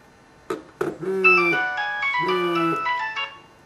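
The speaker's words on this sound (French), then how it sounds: "c'est mon portable qui sonne" Incoming SIP call ringtone on a mobile phone, a repeating electronic melody of bright tonal notes in two short phrases, clear and fairly close after a couple of brief knocks.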